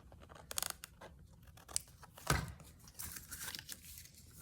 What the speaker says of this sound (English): This paper got a little bit extra, tiny bit that I'm going to trim.